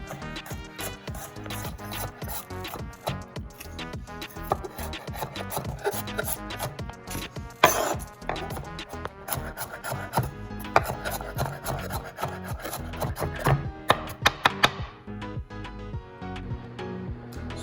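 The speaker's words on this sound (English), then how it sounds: "We're going to take about 5 cloves of garlic and chop them down" A knife chops about five garlic cloves on a board for a spinach pesto pizza. The quick, close, steady blade taps continue throughout.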